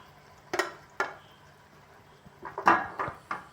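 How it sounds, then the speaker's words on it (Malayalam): A chicken stew with tomatoes and coriander leaves being stirred and sautéed in a pot: a few close, spaced scrapes and clanks of the spoon against the pan over a quiet background. "മല്ലിയില ചേർത്ത് വഴറ്റുക"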